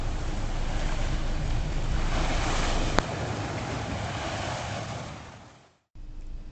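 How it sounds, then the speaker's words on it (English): Gentle sea waves roll and wash in a steady, broad surge with wind buffeting the microphone, fading away briefly near the end before the water noise returns. "the sea, the gentle waves and the rolling water"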